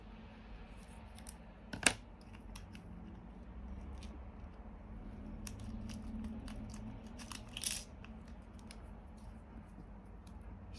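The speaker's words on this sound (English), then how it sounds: "We just snip the end off." Scissors snipping the sealed ends off small plastic bags of brass and silver screws: two sharp isolated cuts, close and fairly quiet, against a low background hiss with faint rustling.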